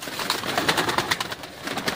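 Fakir Gul pigeons coo and flutter nearby, with soft, repeated coos mixed with clicks and rustling in a busy, fairly close cluster, and no voices.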